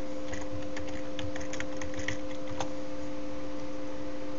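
Typing on a computer keyboard gives a quick run of light clicks and taps against a steady electrical hum, ending with a single firmer keystroke.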